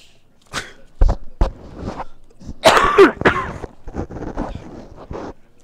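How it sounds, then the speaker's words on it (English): Several coughs and throat clearings sound close to a microphone during a Magic card game session, coming as a loud, irregular cluster of sharp bursts with brief pauses between them. "we all appreciate you not coughing into the microphone directly"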